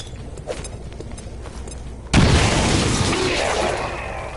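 A frag grenade in XCOM 2 goes off with a sudden loud boom after a few seconds of quiet game ambience. The blast rumbles and fades slowly over the next two seconds.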